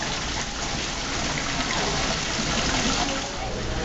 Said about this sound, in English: Water cascading down.